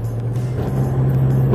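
A Nissan Pro-4X's 2.5-litre, 190-horsepower engine drones steadily with a low hum, heard from inside as it climbs uphill, smooth and unstrained with no voices.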